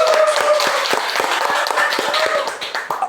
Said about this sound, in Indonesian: Aplaus lah dulu buat Mas Aan ya